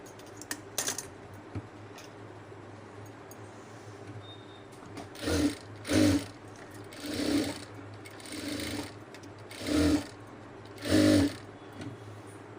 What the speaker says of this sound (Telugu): క్లాత్ని పట్టేసుకొని ఇలా మెల్లిగా జరుపుకుంటూ కుట్టుకోండి ఫ్రెండ్స్.